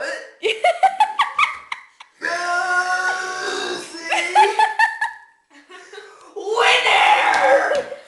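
Burps and laughter during a playful burping contest, with short bursts alternating with giggling and excited voices close by, ending in a loud drawn-out burst.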